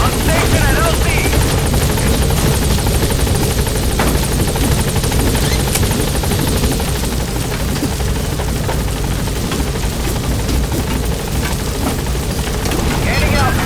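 The B-Quad support helicopter in Metal Gear Solid V: The Phantom Pain hovers at a landing zone, its loud, steady rotor roar filling the scene, with radio voice chatter over it.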